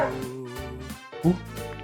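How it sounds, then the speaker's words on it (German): In the video game Another Code: Recollection, a dog gives a few short, moderately faint barks and yips in a spaced, irregular rhythm over a tonal background. "Was that a dog?"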